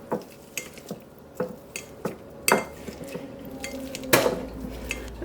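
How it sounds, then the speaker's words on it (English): Cooked potatoes being coarsely mashed by hand with a potato masher in a home kitchen, giving a series of soft, irregular thumps and squelches with occasional light clinks of metal against the pot, close and fairly quiet. "We are just going to coarsely mash our potatoes up."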